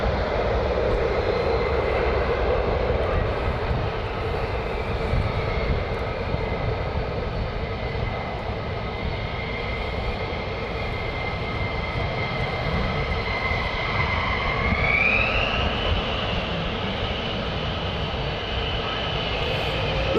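F-15 fighter jets at RAF Lakenheath at night, heard as a continuous, loud roar of jet engines that swells slightly with a rising whine near the middle and carries on steadily.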